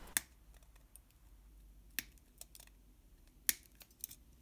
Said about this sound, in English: I forgot to cut the potentiometer legs